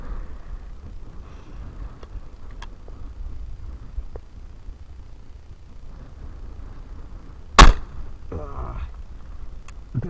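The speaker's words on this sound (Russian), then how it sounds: "Ну я еще сейчас бахну и покажу два выстрела." A single sharp, loud gunshot cracks out about two-thirds of the way through an ammunition crimp test, standing out against a quiet background of low hum and faint scattered noise.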